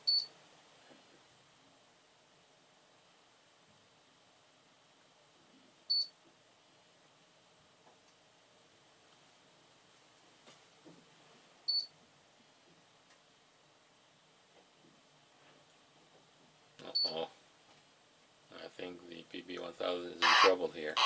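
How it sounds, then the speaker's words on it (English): Short electronic beeps from a Casio PB-1000 pocket computer sound singly every few seconds in near silence, followed by a burst of talking at the end. "every time you hear a beep, that's the PB-1000 making its move."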